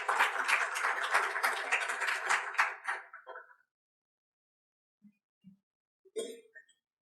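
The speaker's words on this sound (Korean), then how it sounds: "모두 박수로 환영해 주시기 바랍니다." An audience at an academic-industry innovation forum applauds in a dense burst of many hands that fades out after about three seconds, followed by silence with a few faint isolated taps and knocks.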